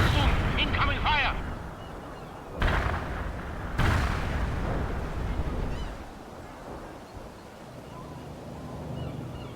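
Incoming artillery fire in the World in Conflict strategy game, a sequence of heavy low booms with sharp onsets around mid-clip over a rumbling battlefield bed, mixed with radio-style voices.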